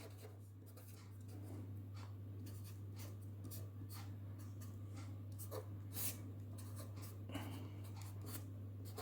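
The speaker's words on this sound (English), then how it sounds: "write capital S here" Writing on a board during a physics lecture, heard as faint scratchy strokes and taps that come and go over a steady low electrical hum, with no talk.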